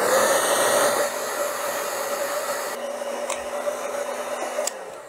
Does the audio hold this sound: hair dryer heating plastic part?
yes